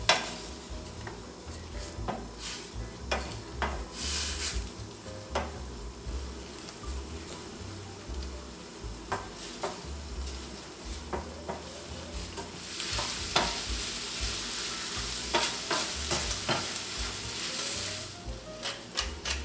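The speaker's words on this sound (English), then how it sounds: "Continue cooking until the liquid is reduced." Mushrooms simmer in chicken broth with Marsala and white wine as the liquid reduces, a continuous bubbling sizzle with repeated spoon-and-pan stirring scrapes throughout, close and fairly loud.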